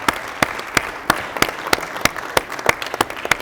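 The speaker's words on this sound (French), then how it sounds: "je veux juste prendre 2 minutes et juste applaudir" Applause at a security day event, heard as a steady series of sharp, evenly spaced claps, close and fairly clear, repeating roughly three times a second with a faint background murmur.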